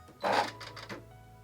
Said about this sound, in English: Have the good sides together, and I'm just gonna sew across the top there.